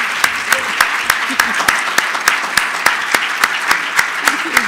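An audience at a talk on early childhood education gives a standing ovation, a dense wash of applause with sharp individual claps standing out at a steady pace throughout, loud and close.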